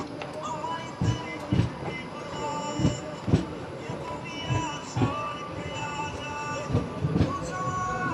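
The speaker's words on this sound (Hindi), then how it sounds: "10 मिनट देरी के साथ अपनी ट्रेन पहुंच चुकी है चौथे स्टॉप पे बछवाड़ा जंक्शन" Janhit Express stands at Bachhwara Junction with a busy platform murmur, and repeated metallic clanks and thumps from the train sound every second or so at moderate distance over a steady background rumble.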